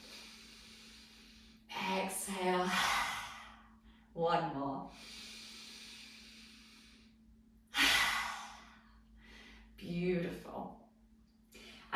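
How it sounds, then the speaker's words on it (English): Forceful open-mouthed lion's breath exhales during a yoga stretch, several loud breathy bursts spaced a few seconds apart, some rising into a throaty voiced roar, with quieter inhales between and a faint steady hum underneath. "Eyes are going to be open wide with our big exhale out in our lion's breath"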